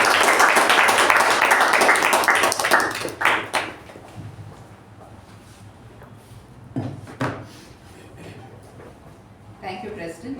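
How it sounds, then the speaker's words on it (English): A room full of people at a Toastmasters club meeting applauds to welcome the Toastmaster of the day: loud, dense clapping for about three seconds that quickly dies away, followed by a few scattered taps and knocks. "Please welcome, with a thunderous round of applause, the ever smiling Toastmaster of the day"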